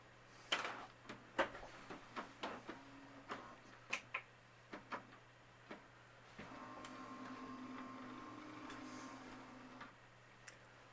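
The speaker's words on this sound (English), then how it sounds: "and turn the printer on." An Epson ET-4760 inkjet printer starts up with a run of clicks and clunks, then a steady mechanical whir of motors running for several seconds, ending with a final click.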